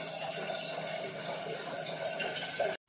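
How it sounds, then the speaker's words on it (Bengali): Tap water runs steadily into a sink while rice is rinsed, a close, even hiss of flowing water that cuts off abruptly at the end. "চালটা ধুয়ে নিয়ে তোমাদের দেখাতে যাবো।"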